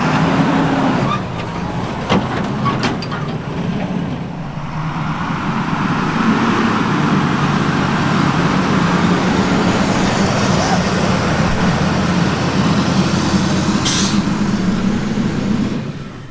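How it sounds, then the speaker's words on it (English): A fire truck loaded with 5,000 lb of water drives down into a pond and climbs back up a steep hill, its engine rumbling loudly and steadily, rising in strain as it pulls upward. "I'm gonna drive it down into the pond and then see if I can drive it back up out of the pond."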